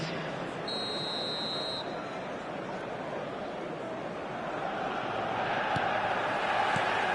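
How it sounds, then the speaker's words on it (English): A sharp referee whistle blows for about a second to start the second half of an eFootball match, ringing over a steady roar of stadium crowd noise that continues throughout. "Whistle goes, and we start the second half."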